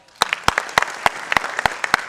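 An audience at a public event claps in a sparse, uneven burst of about a dozen sharp, distinct claps over two seconds, fairly close.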